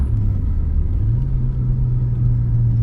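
An MG ZT 190 engine hums steadily from inside the car while driving, a continuous low rumble that rises slightly in pitch partway through, with no talking.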